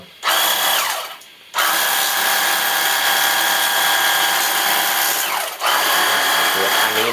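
A high, steady motor whine from a cordless MOLITA water spray gun runs loud and close, cutting out briefly twice before starting up again.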